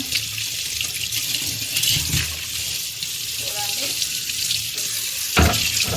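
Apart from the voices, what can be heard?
washing sprouts under running tap water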